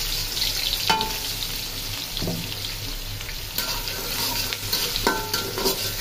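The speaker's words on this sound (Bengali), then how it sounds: "ডিমগুলো ভাজা শেষ, আমি পেঁয়াজ দিয়ে দিই কড়াইতে" Onions frying in a hot wok after eggs were fried, a steady close sizzle with scraping stirs and a few sharper clatters, no voices.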